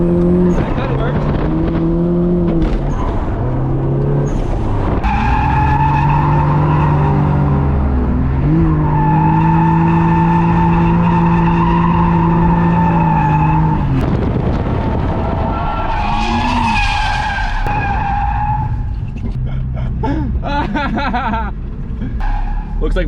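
Cars sliding and drifting on a bumpy surface until the tires overheat, engines revving loudly with pitch rising and falling as they slide, and a sharp tire squeal screeching near the end; close and continuous.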